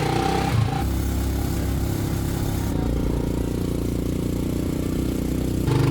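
A small motorbike sidecar taxi engine in the Philippines drones loudly and continuously, labouring uphill with shifting pitch as it strains and slows, close and unbroken throughout.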